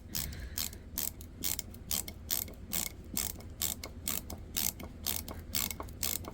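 A Klein ratcheting ball-grip screwdriver drives a screw into material with no pilot hole, its pawl clicking in quick, regular bursts with each turn, close and alone, with no voices.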